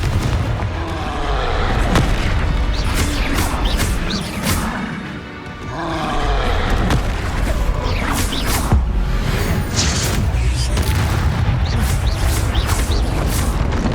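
In the Hogwarts Legacy video game, repeated Confringo spell explosions boom and roar loudly, overlapping with crashing impacts and dense magical effects in a continuous battle soundscape.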